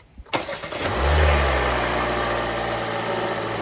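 A 2024 Hyundai Elantra 2.0 engine cranks and catches with a sharp burst, then settles into a steady, close, even hum for several seconds with no talking.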